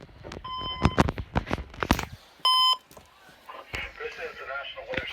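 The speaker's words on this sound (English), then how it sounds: "The signal you just heard was our weekly test of the NOAA Weather Radio warning alarm system." NOAA Weather Radio warning alarm weekly test from the National Weather Service in Grand Rapids: a short steady loud tone burst between patches of broadcast talk and other beeps.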